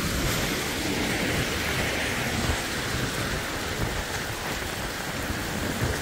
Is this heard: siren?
no